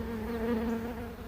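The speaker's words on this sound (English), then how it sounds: "There's just so many bees on the frames" Dense, steady buzzing hum of a honey bee swarm crowding onto hive frames, a continuous close drone with no pauses across the whole moment.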